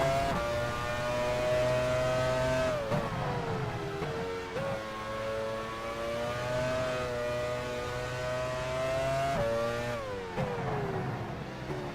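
Formula One race car engines from F1 Challenge 99-02 at the 1999 Brazilian Grand Prix scream at high pitch, holding steady then dropping sharply on gear changes and climbing again, loud and close.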